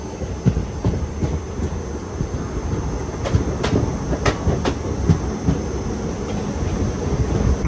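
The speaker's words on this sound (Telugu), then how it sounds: "మేడ్చల్ రైల్వే స్టేషన్ నుంచి మనం అయితే బయలుదేరిపోయాం." The Ajanta Express rolls along just after leaving Medchal station, heard from inside a carriage as a steady rumble with rhythmic clickety-clack of the wheels over rail joints. The wheel noise carries sharper clacks throughout, and no one speaks.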